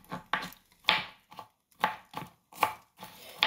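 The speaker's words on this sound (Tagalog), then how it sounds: "Prepare tayo ng bawang. Chop pa natin ng mas pino." Garlic being finely chopped with a knife on a cutting board for pork sisig. The blade strikes are sharp and close, landing in quick irregular bursts of two or three with short pauses between.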